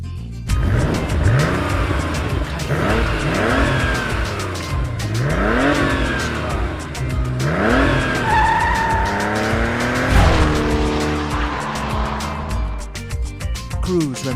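Animated race cars from the Cars 3 trailer roar past with sweeping, rising and falling engine revs and screeching tire skids, loud and continuous with repeated whooshing passes.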